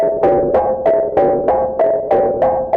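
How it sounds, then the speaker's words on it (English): A Moog Matriarch synthesizer plays an FM-style percussion patch through delay, giving a steady run of about nine sharp, metallic plucks that decay quickly, each one echoing into the next. "It's kind of an FM-ish percussion sound."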